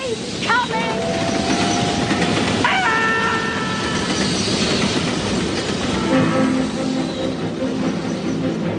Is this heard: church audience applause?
no